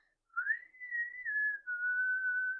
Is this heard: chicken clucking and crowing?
no